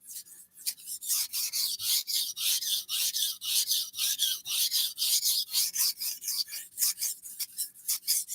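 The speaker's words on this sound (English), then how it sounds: "Let me know if on the knife sharpening level, if this sounds better than it did before for the other knife." A knife blade drawn repeatedly across a sharpening stone, a steady rhythmic series of close, raspy strokes at an even pace, heard on its own without voices.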